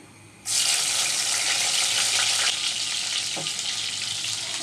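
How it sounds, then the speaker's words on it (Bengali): Chopped onion dropped into hot oil for a bata fish and potato curry bursts into a loud sizzle after a brief quiet moment, then holds a steady, close, hissing fry. "তেল গরম করে নিয়েছি এবার দিয়ে দিচ্ছি একটা পেঁয়াজ গ্রেটার করে আর এক পালি পেঁয়াজ দিয়েছি কুচি করে"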